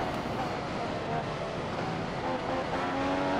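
A Formula 1 car engine roars steadily at Spa in the racing game F1 2015, a loud continuous drone filling the whole stretch with slight pitch shifts, and a voice talks over it.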